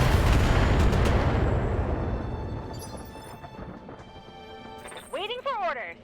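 Heavy weapon fire in the BattleTech mech video game opens with a booming blast whose rumble decays over several seconds, followed by electronic game effects and a voice speaking near the end.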